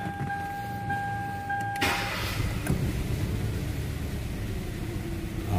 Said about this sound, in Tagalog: Start natin yung sakyan.